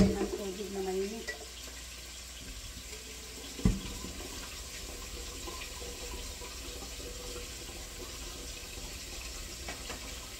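Tap water pours steadily into a cooking pot for boiling in a home kitchen during beef stew preparation, a continuous mid-level rush with a brief voice at the start and a sharp clunk partway through.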